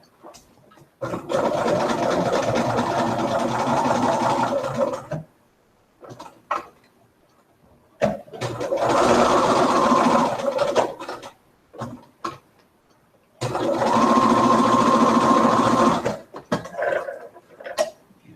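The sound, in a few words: sewing machine sewing around a bib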